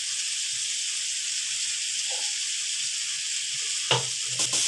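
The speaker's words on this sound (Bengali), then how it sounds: "এখন একটু কষিয়ে নেবো, মশলাগুলো একটু কষিয়ে নেবো।" Chilli, cumin and coriander powder fry in a pan with a steady, bright sizzle. A few brief clinks of stirring come near the end.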